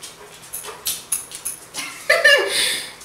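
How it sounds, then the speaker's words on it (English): A pet dog whimpers and pants, giving a run of short breathy huffs followed by a louder high-pitched whine, close to the listener. "Don't mind him. He's my pet dog."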